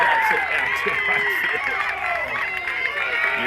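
Crowd at a high school baseball game roaring and cheering steadily after a deep fly ball to right field, a dense sustained wash of shouts and voices throughout.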